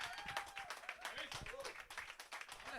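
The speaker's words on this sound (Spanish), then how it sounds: "Ahora sí, aplauden todos" An audience claps in dense, steady applause, fairly faint and continuous, with voices mixed in.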